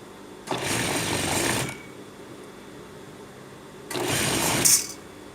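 A sewing machine stitches trousers during a waist and crotch alteration in two short, loud bursts of whirring needle chatter about a second long each, separated by a quiet pause, with no talk.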